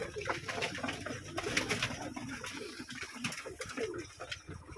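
Wild jalali pigeons at a pigeon farm in Chhoto Patra, Keshabpur, Jessore, cooing in soft, repeated rolling calls that overlap from several birds, fairly quiet and without talk.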